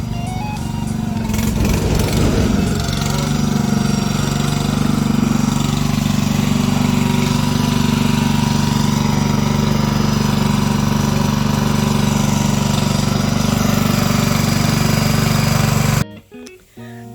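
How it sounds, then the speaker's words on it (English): A forklift moving a greenhouse runs its engine in a steady, loud, nearby droning chug, holding nearly constant before cutting off abruptly near the end. "They are moving my greenhouse to the area I wanted with a forklift."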